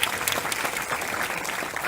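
Audience applause at a foundation's annual event during a film festival, a dense steady patter of many hands clapping close by for the full stretch, with no talk over it.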